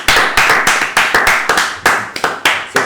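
Small audience clapping for quiz show contestants, a burst of fairly close, dense hand claps with a quick uneven rhythm and no talking.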